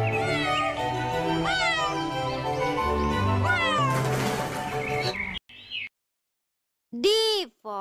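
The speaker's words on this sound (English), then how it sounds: "C for cat." A cat meows several times in a children's phonics song, the meows loud and close over a music backing, then a short pause before two more clear meows.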